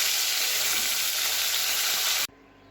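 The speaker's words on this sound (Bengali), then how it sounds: "এইটা যেই মাছটা একটু ভাজা হয়েছে" Fish frying in oil gives a loud, steady, close hiss and sizzle that stops abruptly near the end, leaving quiet room noise.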